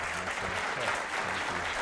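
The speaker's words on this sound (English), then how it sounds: "a round of applause" Audience applause at a community convening, a dense steady patter of many hands clapping at once, loud and sustained throughout.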